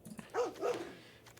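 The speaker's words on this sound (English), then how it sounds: "It's a dog, sorry." A dog gives two short barks close to the microphone, standing out against a quiet room background.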